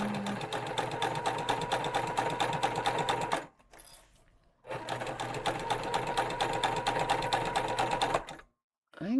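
A sewing machine runs steady stitching along the seams of a Fieldstone tote bag in two long bursts, with a brief pause between them and a cutoff near the end.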